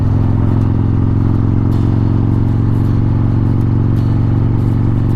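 Harley-Davidson Road Glide carrying two riders, its engine giving a steady loud low rumble with wind noise as it cruises along a road, no voices.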